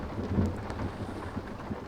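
Thunder rumbling with steady rain in the trucking video game Route Runner, a low continuous roll under a constant hiss of rainfall, fairly loud and close, with no voices.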